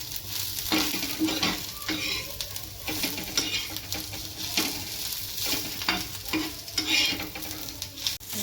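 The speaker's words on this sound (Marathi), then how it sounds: "सुकं खोबरं पण भाजून घेणार आहे दोन मिनटं" Dry coconut roasting in a pan for a vegetable curry with drumsticks sizzles steadily while being stirred, with repeated close scraping strokes about once a second over the crackle.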